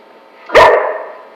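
A dog gives one loud, close bark, a single sharp yelp that rings out briefly and fades against a quiet background.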